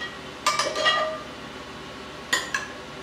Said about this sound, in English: I'll place them in my casserole dish.